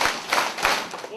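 Children at a fourth grade school assembly clapping in unison three times, three sharp, separated bursts in quick rhythm.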